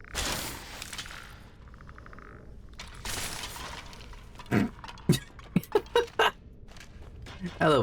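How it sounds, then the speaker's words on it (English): Skeletons burst apart in the video game Skyrim, with sharp crunching, clinking and shattering hits in a quick irregular cluster toward the end, following a stretch of game ambience and softer rustling. "I love when skeletons explode."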